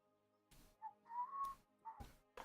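A single person whistles a short, quiet melodic phrase of a few sliding notes, broken up by soft clicks and bumps between them.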